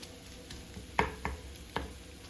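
Meat cooking in a pan on medium heat for dirty rice gives a faint, steady sizzle, broken by three sharp clinks of a utensil against the pan.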